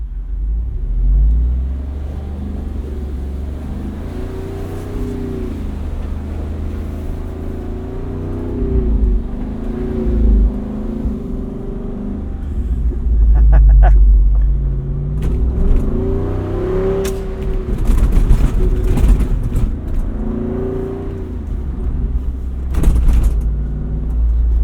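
A 2024 Jeep Wrangler Rubicon 392 Final Edition V8 rumbling loudly and continuously while driving over bumpy off-road ground, with surging swells of engine revving and occasional clunks and knocks from the body.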